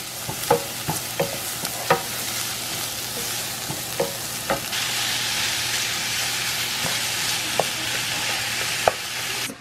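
Onion, garlic and ground beef frying in a pan, a constant close sizzle with sharp clicks from a utensil stirring and tapping at intervals, no talk.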